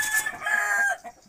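A Peru breed rooster crows once, close and loud, a single strained drawn-out call that rises and holds before breaking off, followed by a short softer tail.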